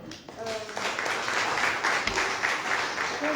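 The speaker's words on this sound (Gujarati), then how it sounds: "ખૂબ પહેલાં તો એમના માટે તાળીઓ." An audience at a women's book-discussion gathering applauds, steady close clapping that starts almost at once and continues to the end alongside a speaking voice.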